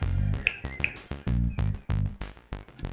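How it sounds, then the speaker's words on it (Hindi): Sharp finger snaps ring out one after another in a domestic drama scene, crisp clicks set against a loud background music bed rather than standing alone. "ये चुटकी क्या बजा रही हो भाभी?"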